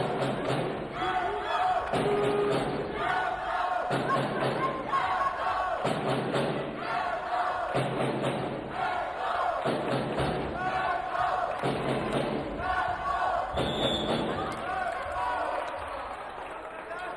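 Selfoss supporters at a youth handball cup final against FH chant and clap in a steady repeating rhythm, loud and close, with rhythmic thuds and drum-like beats throughout and the crowd noise filling the whole hall.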